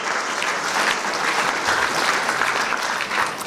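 A roomful of people applauds, the steady clapping holding at an even level throughout with no voices over it.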